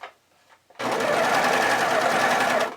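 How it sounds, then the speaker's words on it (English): After a short quiet pause, a sewing machine starts up nearby and runs at a steady, fast stitching rhythm for about two seconds before stopping. "Anchor it on with your serger or your sewing machine."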